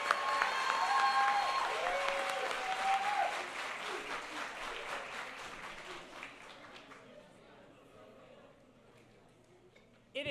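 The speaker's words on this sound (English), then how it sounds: "Round of applause." Crowd applause at a high school graduation ceremony, full and sustained at first with some cheering, then thinning out and fading to scattered claps over about ten seconds.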